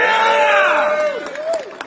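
A rally crowd at a march erupts in loud cheering and shouting, voices rising together in a sustained roar that slowly tapers.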